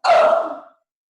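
A single forceful breathy exhale, loud and close, tapering off within a second.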